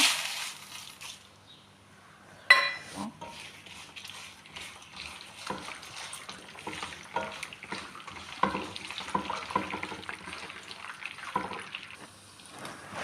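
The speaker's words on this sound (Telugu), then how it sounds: "ఆయిల్ అయితే ఇటు ఎక్కిపోయింది మన ముందుగా అయితే మన పోపులన్నీ వేసుకుందాము" Mustard seeds and other tempering spices crackle and fry in hot oil for pulihora (tamarind rice) after a sharp clatter, with stirring, scraping and popping noises continuing at a moderate level.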